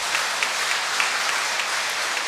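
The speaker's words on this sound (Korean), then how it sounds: "차갑다는 쪽에는 여러분이 박수 한번 쳐드리면" A church audience at the Jeju Dongmun Cathedral 50th-anniversary lecture breaks into a steady wash of applause, dense and even throughout with scattered sharper claps.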